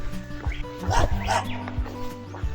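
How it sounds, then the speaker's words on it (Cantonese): A dog barks repeatedly on the Kumano Kodo pilgrimage trail in Japan, a series of sharp yips and barks at moderate distance, with a person's brief voice sounding over the middle. "唔係我行紅野古道都俾狗吠係嘛？"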